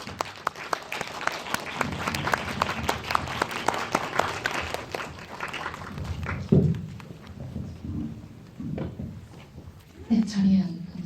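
Audience at a graduation film festival screening of the Korean Academy of Film Arts applauding a film team onto the stage, dense clapping for about six seconds that then thins out into scattered claps and thuds.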